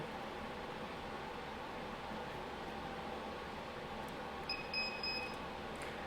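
A few short high-pitched electronic beeps from a circuit breaker finder near the end, sounding over a steady background hiss with no talking.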